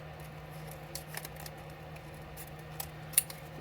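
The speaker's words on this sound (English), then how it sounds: "Just going to use my scissors." Scissors snip through small A5 book pages in a few quiet, brisk cuts, with one sharper snap near the end over a low steady hum.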